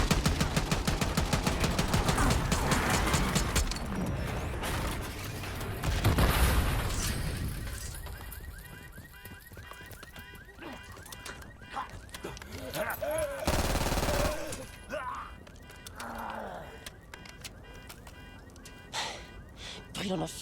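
Rapid automatic gunfire in the Black Ops 6 campaign, loud and dense at first, then a few isolated shots and blasts, with voices talking in French throughout.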